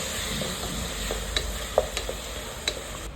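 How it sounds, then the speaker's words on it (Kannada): Chopped tomatoes fry and get stirred in a pan while cooking coriander rice, giving a steady soft sizzle broken by a few sharp scraping clicks of the spoon, close and fairly quiet with no voices. "ಅದನ್ನು ಕ್ಲೀನಾಗಿ ಫ್ರೈ ಮಾಡ್ಕೊಂಡು ಎಲ್ಲ ಮಿಕ್ಸ್ ಮಾಡ್ಕೊಳ್ಳೋಣ"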